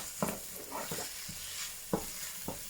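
Callaloo and saltfish fry in a pan with a constant sizzle, while a utensil stirs and scrapes through it in several distinct strokes, close and clear.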